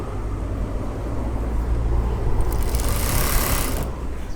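A sewing machine runs steadily, stitching the hem of an evening gown, its continuous close motor whir and needle rattle holding level throughout with no talk.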